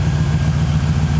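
A 2013 GMC 2500HD pickup engine with 180k miles idles slightly high, giving a steady low rumble heard close and alone.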